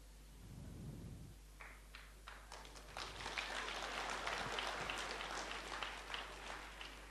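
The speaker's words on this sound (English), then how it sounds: "Why you are clapping?" An audience at a talk breaks into clapping, starting with a few scattered claps and building into full, dense applause that carries on steadily, fairly faint overall.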